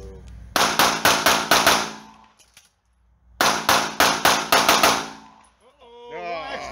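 Pistol shots ring out at a USPSA shooting match, two loud close bursts of about six rapid shots each separated by a pause, followed by a raised voice.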